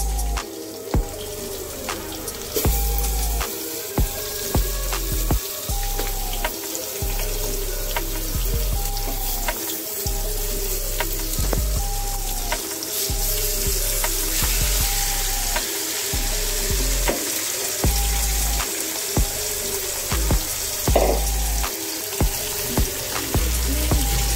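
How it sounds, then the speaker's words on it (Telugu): Marinated chicken frying with whole spices in a pot for Arabian-style chicken kabsa, a continuous close sizzle broken by repeated scraping and stirring strokes. "మసాలా దినుసులని వేయించుకున్న తర్వాత ముందుగా మారినేట్ చేసి పెట్టుకున్న చికెన్ని వేయించుకోవాలి"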